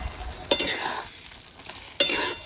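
Moth bean dal and onion curry is stirred in a pan, with two sharp spoon clinks against the metal and soft scraping and faint sizzling between them.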